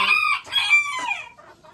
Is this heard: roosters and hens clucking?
yes